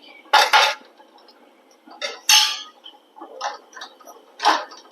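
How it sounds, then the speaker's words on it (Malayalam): A spoon scrapes and taps in a pan while turmeric, Kashmiri chili and coriander powders are stirred with coconut for a duck egg curry, in a few separate, close, dry bursts with quiet gaps between. "പൊടികളും കൂടി ഒന്ന് പച്ചമണം പോണ വരെ ഇളക്കി കൊടുക്കുക"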